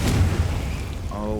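A Confringo spell explodes in the video game Hogwarts Legacy, a deep boom at the start that fades into a rumbling tail, followed by a brief tonal chime.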